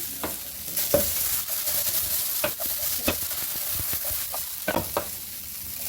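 Potatoes frying in a pan crackle with a continuous close sizzle, punctuated by repeated scraping, clacking stirs of a spatula at irregular intervals.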